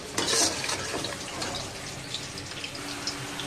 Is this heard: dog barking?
no